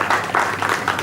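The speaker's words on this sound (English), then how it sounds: "चलो, big round of applause." A brief burst of hand clapping from a conference audience, a few loose claps close together at moderate loudness, over a low room murmur.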